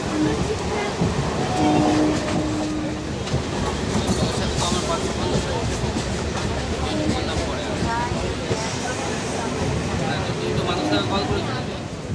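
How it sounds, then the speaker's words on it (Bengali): A Howrah–Bardhaman Main Line local train rumbles and clatters loudly and continuously, with rhythmic clicking of wheels and brief tonal squeals, as if rolling into a platform. "ট্রেন ঢুকছে"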